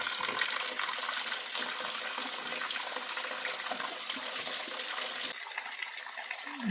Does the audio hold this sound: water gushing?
yes